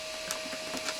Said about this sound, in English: squeeze the sides of these white clips and pull them out